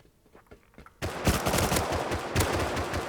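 Video game gunfire: after a second of near quiet, loud rapid automatic bursts erupt and continue densely to the end, with no talk over them.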